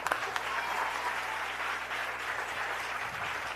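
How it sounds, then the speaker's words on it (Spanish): Audience applause fills a youth church conference hall, a steady, dense clapping that holds at even strength throughout, with no voices over it. "Voy a darle un aplauso."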